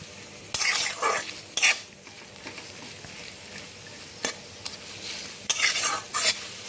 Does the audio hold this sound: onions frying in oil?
yes